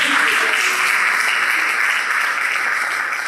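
Steady audience applause with dense, continuous clapping through a French talk show, holding at an even level for the full stretch with no voices on top.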